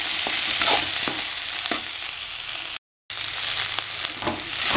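Ingredients for flattened rice kichadi are sautéed in a pan, with a bright close hiss of frying and a few scraping stirs, broken by a brief cut to silence before the sizzle resumes.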